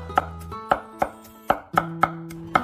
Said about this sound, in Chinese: 拍过以后我们直接把它剁成蒜末